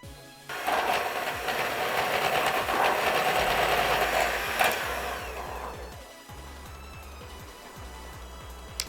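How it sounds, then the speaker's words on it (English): An electric hand mixer whisks peach cookie filling, a steady buzzing motor whine that runs loud, then drops to a lower, softer hum with rhythmic beater ticking. "I'm going to keep the hand mixer on low while I stream in the butter."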